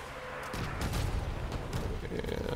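Vehicle gunfire in the Crossout combat game, a battle involving a dual incinerator fire truck build, comes as a dense, continuous burst of shots and impacts after a brief quieter lead-in, loud and sustained throughout.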